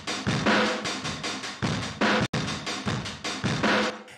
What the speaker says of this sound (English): like almost like a room mic that just got absolutely obliterated with compression and saturation.